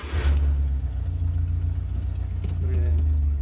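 A 1975 Porsche 914 with a 1.8 engine running at a steady, even idle close by, a low continuous rumble with a brief louder burst at the start and a faint voice near the end.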